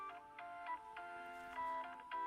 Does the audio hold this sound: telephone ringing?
yes